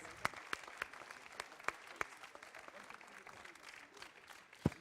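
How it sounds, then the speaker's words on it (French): Scattered applause from an audience, with sharp individual claps standing out over a soft, steady patter, heard at moderate distance. "Applaudissements pour eux."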